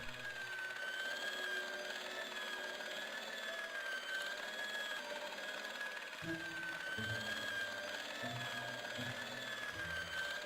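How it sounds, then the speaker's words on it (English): An industrial polishing machine in the Broken Sword video game drones in a steady mechanical whine, with a low rhythmic chugging joining partway through. "It was an industrial polishing machine with an odd-looking guy in tow."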